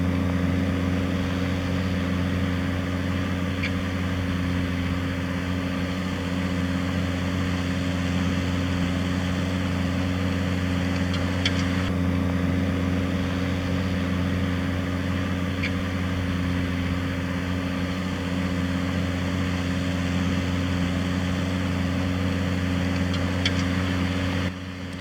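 A farm tractor's engine runs steadily while transporting and stacking big hay bales, a loud, even drone with a deep low hum that holds constant throughout, with no talking.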